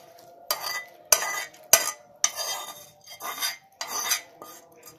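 Lemon rice is stirred together with boiled rice in a pan, a utensil scraping and clinking against the metal in about seven distinct strokes, close and fairly quiet, with no talking.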